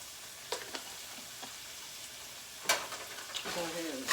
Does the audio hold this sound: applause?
no